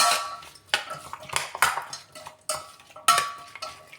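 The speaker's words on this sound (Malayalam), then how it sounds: "നന്നായി നമുക്കിതൊന്ന് മിക്സ് ചെയ്തെടുക്കാം" Chicken and koorka pieces are mixed with salt and turmeric in a pot, giving repeated sharp spoon knocks and scrapes against metal in an irregular rhythm, close up.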